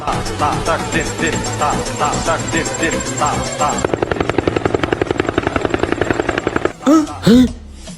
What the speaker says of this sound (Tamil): பா ஹெலிகாப்டர் சவுண்ட் மறுபடியும் கேக்குதுப்பா